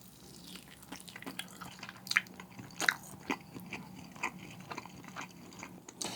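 Crispy BHC-style fried chicken skin bitten and torn while eating, a few sharp crunchy bites and rips standing out against quiet chewing close to the mic, with no talking.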